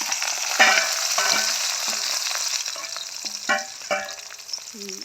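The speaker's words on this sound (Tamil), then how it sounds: "இப்போ வந்து நாங்கள் முதலாவது வெங்காயம் பூண்டு மிளகாயை தாளிக்க போடுவோம்" Onion, garlic and chilli sizzle steadily frying in oil, with several clinks and scrapes of a large ladle stirring the pan throughout.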